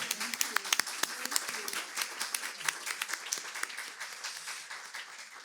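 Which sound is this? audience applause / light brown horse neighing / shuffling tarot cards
audience applause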